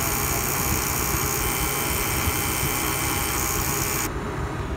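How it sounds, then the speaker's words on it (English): A failing three-phase electric A/C compressor on a 2009 Toyota Prius gives off a loud, steady, close droning whir with a rough grinding edge. Near the end its upper hiss cuts out abruptly, leaving a lower hum. No voices are heard. "This is just one of the sounds that a three-phase electric compressor can make when it's failed."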